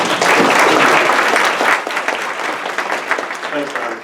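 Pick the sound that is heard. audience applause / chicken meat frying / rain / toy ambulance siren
audience applause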